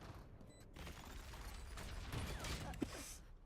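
A gun is reloaded in Valorant, heard as faint mechanical clicks, creaks and ratcheting metal handling, ending in a sharp brief snap as it locks into place.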